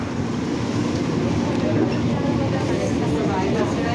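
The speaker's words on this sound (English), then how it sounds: "This train is departing for all terminals." Airport terminal shuttle train at a Phoenix Sky Harbor station, a steady broadband rumble of the train and station hum held at constant loudness throughout, with a public-address voice heard over it.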